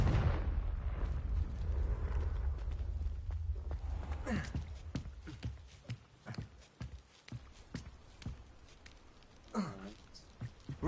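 A Confringo blast spell explodes in the Hogwarts Legacy video game, a broad rumbling burst that fades over several seconds, followed by rhythmic hoof-like steps and scattered game sounds.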